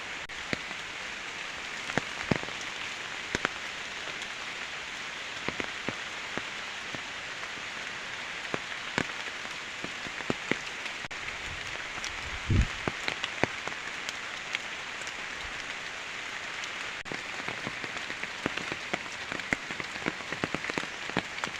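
Steady storm rain patters on ripe coffee plants throughout, a dense hiss with scattered sharper drops and one louder knock partway through.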